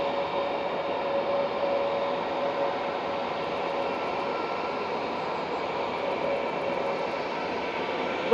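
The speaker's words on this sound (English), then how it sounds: "Lufthansa heading back to Frankfurt DAIJD with flight 949 A320neo" A Lufthansa Airbus A320neo jet at Manchester Airport, bound for Frankfurt, gives a steady, fairly loud engine rush with a thin tonal whine that stays even throughout, unaccompanied by any voices.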